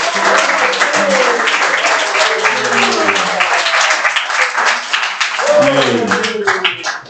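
A church congregation claps in praise of the Lord, a dense sustained applause running for several seconds while a voice speaks and sings over it.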